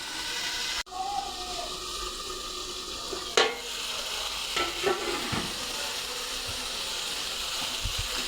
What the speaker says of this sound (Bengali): মশলাটা কষাবো যতক্ষণ পর্যন্ত উপরে তেল ভেসে না ওঠে, ততক্ষণ পর্যন্ত মশলাটা আমি কষাবো।